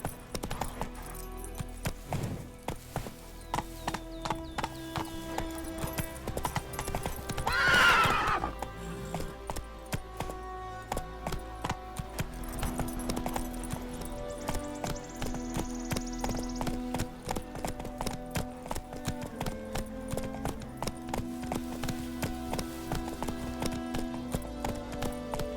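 Galloping horse hooves clip-clop steadily in a war-torn fantasy video game, with a loud whinny partway through and a musical score running underneath throughout.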